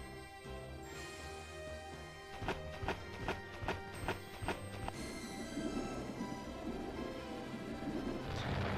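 Horse hooves clip-clop in the Discworld video game: a run of about ten even, evenly spaced hoof knocks, fairly quiet over a sustained musical backdrop.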